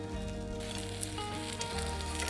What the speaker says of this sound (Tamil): லோ ஃப்ளேமில் வச்சு நீங்கள் சுட்டு எடுக்கும்போது உள்ளெல்லாம் நல்லா ஆம்லேட் வெந்து வருங்க